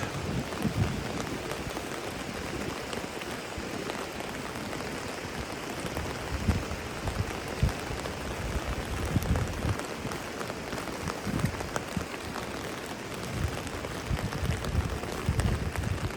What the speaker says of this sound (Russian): Не перестает дождь, идет, идет, идет, идет.